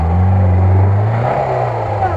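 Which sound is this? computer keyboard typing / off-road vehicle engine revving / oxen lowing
off-road vehicle engine revving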